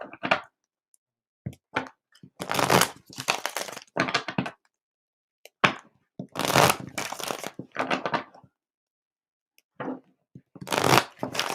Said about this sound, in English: All right, Kaylee, let me get some clearing shuffles in